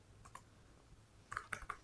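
Quiet clicking of computer keyboard keys as a short test post is typed, a few scattered taps followed by a quick cluster of keystrokes, faint and close.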